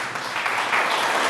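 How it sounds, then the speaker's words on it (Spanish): A church congregation applauds in a burst of dense, steady clapping that fills the whole moment at even loudness. "Dele un aplauso a Dios."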